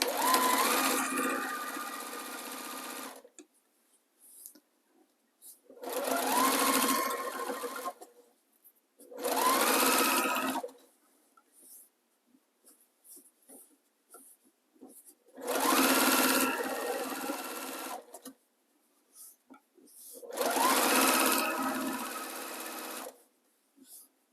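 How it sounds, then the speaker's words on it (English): A sewing machine runs in five bursts of a few seconds each, stitching as close as possible to the edge of a small fabric fold while making a flower cover, with quiet pauses between runs. "I'm stitching very close, like as close as I can get to the edge of that little fold"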